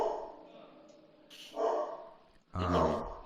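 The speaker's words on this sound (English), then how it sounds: "Sorry if you can hear my dog." A dog barks a couple of times in loud, harmonic bursts, the second louder and closer, with quieter background sound in between.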